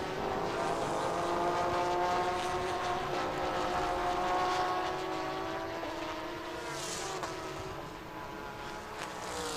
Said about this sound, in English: listening to the sound and vibration of the engine roaring past the